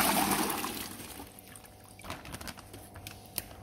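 Aquarium water with fish is poured into a bucket: a full rush of pouring that tapers into trickles, drips and small splashes, close by with no talk.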